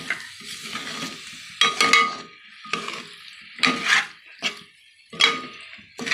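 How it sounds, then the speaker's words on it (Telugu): Soaked rice, barley and six kinds of lentils are stirred and fried in oil in a home kitchen pot, giving repeated scraping, clattering stirs with a steady sizzle underneath, loud and close. "ఒకసారి ఆయిల్లో ఇవన్నీ ఫ్రై అవనిద్దాము"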